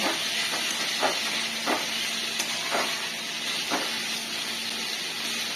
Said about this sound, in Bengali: আলুগুলো দিয়ে দিলাম এবার এগুলোকে আলুগুলোকে একটু ভেজে নেব